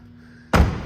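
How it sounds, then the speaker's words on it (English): A 2008 Corvette C6 Z06 door shuts with one solid, heavy thud after a quiet idle hum, close and loud, with a brief low rumble after the slam. "All the doors shut real nice."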